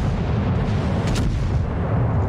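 Naval gunfire from a warship in World of Warships: a dense, booming roar of artillery with a brief sharp crack near the middle, loud and continuous, no talk.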